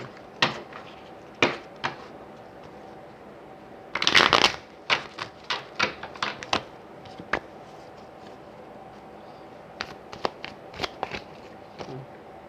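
A deck of cards is shuffled in several quick riffling bursts with crisp snapping clicks, separated by short pauses and scattered taps.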